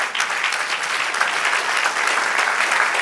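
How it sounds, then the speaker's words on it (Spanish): A church congregation breaks into steady, full applause during a sermon, a dense even clapping that fills the room and holds its level throughout. "Denle un aplauso al Señor."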